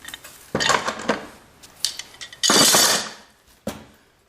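Metal wrenches set down near a cast iron radiator, giving a few sharp clanking, clinking impacts: one around the middle is a longer, louder rattle of metal on metal, with short taps before and after it and no talking.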